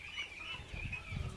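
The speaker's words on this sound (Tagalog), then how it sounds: "Rhode Island Red po." Rhode Island Red chickens on a farm cluck softly and briefly nearby, a few low clucks over a steady background with a brief rustle like wings.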